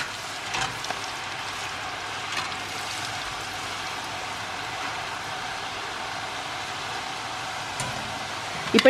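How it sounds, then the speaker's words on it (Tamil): Spicy diamond cuts, rolled and cut dough strips, frying in hot oil, giving a steady, even hiss of bubbling throughout with a few faint clicks and no talking. "இதையும் அதே மாதிரி ஃப்ரை பண்ணிடுவோம்."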